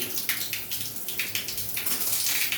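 Water runs steadily from the tap of a water geyser that is under repair, a continuous splashing stream with small irregular spatters and no voices.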